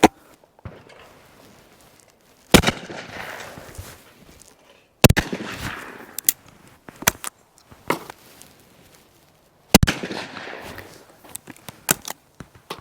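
A vintage side-by-side English shotgun fires 24 gram compact 7.5 shot outdoors, several sharp loud reports spaced seconds apart, each with a short echoing tail, with mechanical clicks and handling noises between shots.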